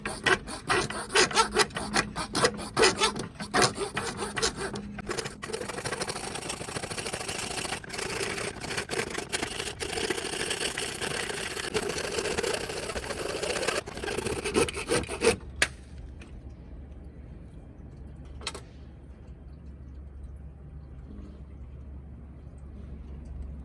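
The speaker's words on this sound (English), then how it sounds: "When you work with a hacksaw, it's important to not push too hard because this is flimsy." A hacksaw cuts through flimsy PVC pipe in quick back-and-forth strokes, with a close, rasping scrape. The sawing runs steadily for about fifteen seconds, then stops, leaving a faint low hum with one brief scrape.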